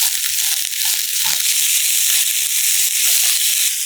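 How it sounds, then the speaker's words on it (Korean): Sliced zucchini and roughly chopped onion sizzle steadily in olive oil in a pan over medium-low heat, a continuous close, bright hiss with occasional soft crackles and stirring scrapes, no voices. "양파를 넣고 볶다가"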